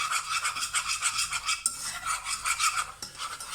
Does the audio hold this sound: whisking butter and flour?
yes